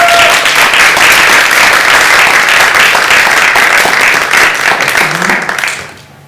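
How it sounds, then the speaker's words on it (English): Loud, sustained applause from an audience welcoming authors at a live crime-writing festival event, steady dense clapping that fades out toward the end. "would you please join me in giving them a huge welcoming round of applause"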